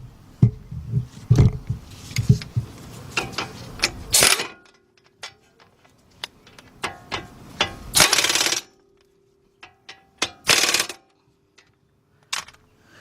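Ratcheting and metallic clicks from tightening the two 17mm front brake caliper bracket bolts on a 2007 Honda Accord, coming in irregular close bursts with clanks and pauses between them, alone with no talk.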